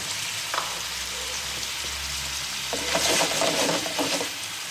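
Fresh tomato sauce sizzles in a pan with octopus, squid and slipper lobster while a utensil stirs it, making soft scraping and bubbling with a few louder stirring strokes near the end.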